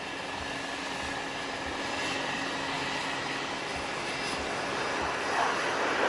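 Aircraft in a V-shaped Victory formation pass over the Aero India 2025 air show, a distant, steady engine roar with a broad hiss that swells slightly toward the end.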